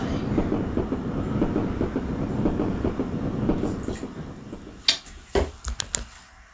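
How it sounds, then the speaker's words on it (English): A long freight train rolls past with a continuous rhythmic clatter of wheels on rails, then sharp clanks and bangs as the cars jolt near the end. "the freight cars clattered along the line."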